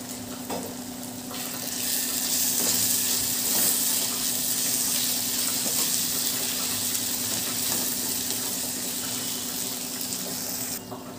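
Ginger garlic paste fries in hot oil in a pan for crab curry, a steady close sizzle with faint stirring scrapes throughout.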